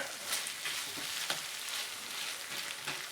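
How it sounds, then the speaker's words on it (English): Sloppy joe sauce simmers in a pan with a soft, continuous sizzle and frequent tiny pops, faint and close, with no voices. "Now I'm going to let that just simmer in the pan a little bit so the sauce caramelizes just a wee bit"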